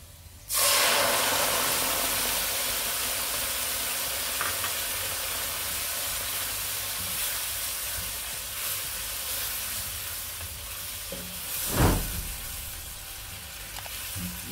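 Second coconut milk poured into fried masala for an okra mappas curry sets off a steady, loud sizzle and hiss that starts abruptly and carries on without pause, with a brief louder burst near the end.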